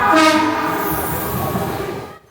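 Train bound for Katase-Enoshima near Kamakura, Japan, runs past loudly with a strong steady rumble, a brief horn-like tone at the start, then drops away abruptly near the end.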